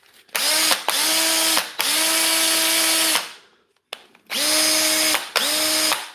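An old brushed DeWalt DCD985 3-speed cordless drill whirs in several short bursts with brief pauses between, loud and close, its pitch rising as each burst spins up.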